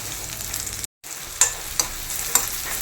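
Sliced small shallots frying in ghee until browned for a Kerala-style mutton soup, an even close crackle with a few sharp spatula clicks and one brief dropout of sound.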